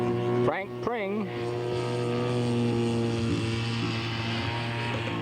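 A P-51 scale model aircraft flies at an outdoor scale aircraft show in Ritzville, Washington, its steady propeller engine drone holding loud and level, with a brief pitch wobble early on and an announcer's voice over it.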